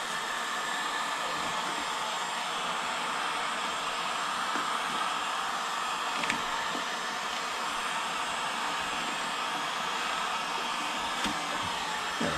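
A heat gun heats a stuck part on a Suzuki RM motorbike during a strip down, with a close, loud, steady blowing roar that lasts the whole time.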